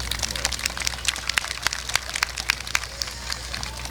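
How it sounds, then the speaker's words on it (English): A crowd at a 2019 high school graduation applauds, a dense, continuous crackle of many hands clapping with sharp individual claps standing out, fairly loud and close. "So let's take a moment and you give everybody here a big round of applause."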